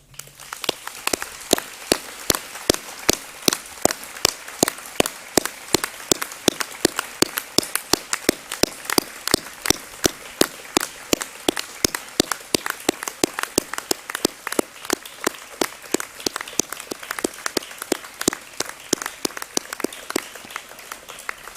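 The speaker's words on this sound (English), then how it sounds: "let's have a round of applause" Graduates at a graduation ceremony applaud each other, a long run of rapid, crisp, fairly close claps in a fast continuous rhythm, with some voices underneath.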